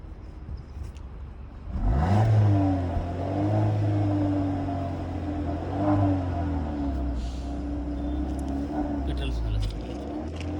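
Engine of a new Maruti Brezza car revving as the accelerator is pressed, a steady low rumble that swells and rises in pitch, held near and loud for several seconds with slight dips.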